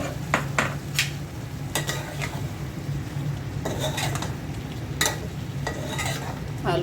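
Par-boiled potato and eggplant pieces stir-fry in a pan, with a steady oily sizzle under repeated close spatula scrapes and clatters against the metal, no voices.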